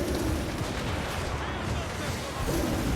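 Continuous battlefield din of artillery volleys pounding an enemy lord in Total War: Warhammer 3's Kislev campaign, a dense rumbling roar of overlapping blasts and gunfire with no clear gaps, loud and sustained.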